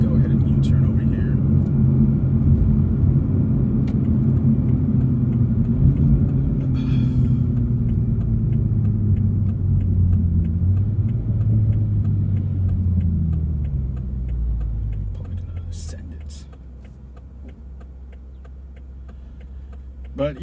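A Toyota Supra pulls away after a U-turn, its engine droning loud and close with a rising then falling pitch before settling to a low idle-like hum, with talk inside the cabin.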